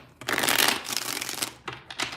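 A deck of tarot cards is shuffled close by: one long riffling burst, then two shorter rustling flurries, with no talking.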